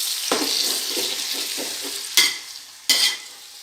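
Chicken coated in ginger garlic paste for biryani sizzles steadily in a hot pan while a spoon stirs it, with soft scraping strokes and two sharper scrapes against the pan, close and loud.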